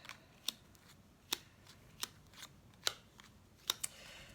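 Tarot cards are shuffled in a series of crisp, close riffling snaps spaced roughly a second apart, faint and alone with no talk.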